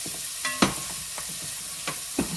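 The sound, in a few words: onions and peppers sizzling in hot pan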